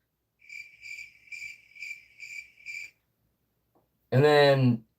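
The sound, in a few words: person imitating chirping crickets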